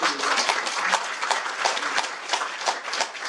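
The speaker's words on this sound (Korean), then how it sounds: "큰 박수 한번 부탁드립니다" Crowd applause at a year-end gathering of a city tourism association in a hotel banquet hall, a brisk, uneven clatter of many hands with sharp individual claps standing out, sustained and fairly loud throughout.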